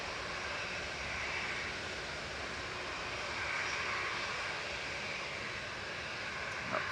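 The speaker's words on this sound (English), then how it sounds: "That's EasyJet to Mykonos there, GUZ-LM, flight 2053, A320 200neo for EasyJet." EasyJet Airbus A320neo jet airliner at Manchester Airport, a steady broadband engine roar held at a fairly even, moderate level throughout, heard alone with no talk.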